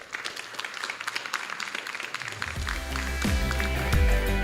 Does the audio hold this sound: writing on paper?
no